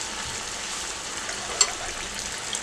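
Spoonfuls of thick cauliflower and potato pakora batter frying in hot oil in a kadhai, giving a soft, even sizzle throughout with one brief sharper crackle, no voices.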